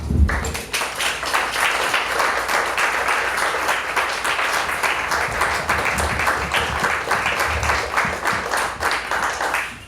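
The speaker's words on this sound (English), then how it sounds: "I want you guys to give yourselves a round of applause." A theatre tribute audience claps for themselves in a sustained, dense round of applause, loud and steady for about ten seconds with no talk over it.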